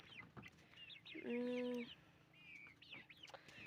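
Chickens cluck and chirp softly nearby, with one sustained, louder call in the middle; a quiet, close farmyard scene.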